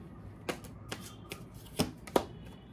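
Tarot cards being shuffled in the hands, several quick riffling bursts close up, growing louder toward the end, with no talk over them.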